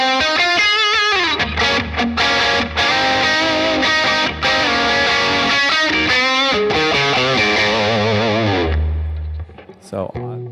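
An electric guitar plays loud, sustained chords and lead lines through a Bad Cat Black Cat combo amp with clean digital reverb set high, ringing out and decaying near the end with no talking.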